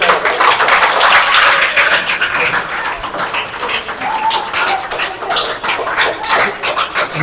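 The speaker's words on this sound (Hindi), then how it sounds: "तालियां भैया" Applause from a group at a school felicitation for selected students, a loud burst of clapping that fades somewhat and continues unevenly to the end.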